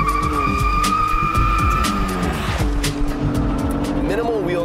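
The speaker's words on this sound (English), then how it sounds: "we actually found it slightly faster to not hold the brake and just stab the throttle" A 2015 BMW M3 launching hard from a standstill by stabbing the throttle without holding the brake: loud engine revving rising through the gears with tire squeal, continuous and close, with a voice talking over parts of it.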